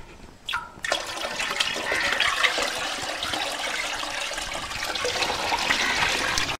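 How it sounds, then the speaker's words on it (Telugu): Five liters of cow urine pour steadily into water for a herbal onion mixture, a loud continuous gushing splash after a brief start, close up and without speech. "ఈ 5 లీటర్ల రావు మూత్రము నీళ్ళల్లో కలుపుకుందాం."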